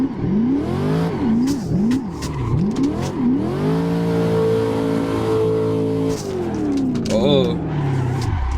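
A Corvette C6 in Assetto Corsa revs hard while drifting, with the engine note swooping up and down in repeated throttle blips, then holding a steady high drone before dropping and rising again, with a voice talking over it.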